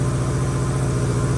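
A 1987 Honda GL1200 motorcycle engine idles steadily at about 1700 RPM, a close, even low rumble with a regular pulsing beat and no voices.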